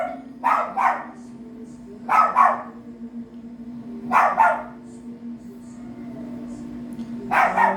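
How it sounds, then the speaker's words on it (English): A small dog barks in four separate bursts of two or three quick barks each, fairly close, over a steady low hum. "He's barking back at him."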